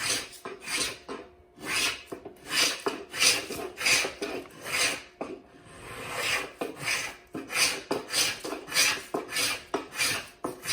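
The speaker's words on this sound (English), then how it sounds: "That's a pretty thick shaving, so I can remove a good amount of material, but just really controlled." A hand tool shaves thick curls from a wooden chair seat during shaping, a steady back-and-forth rasping with a dozen or so rhythmic strokes, close and alone.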